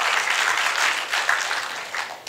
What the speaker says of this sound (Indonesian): Tepuk tangan lagi bagi dia